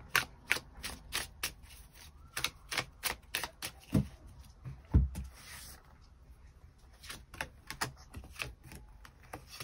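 Tarot cards being shuffled and drawn at close range, with a quick series of sharp papery snaps and flicks in an uneven rhythm, then a few softer slides and taps as cards are laid down.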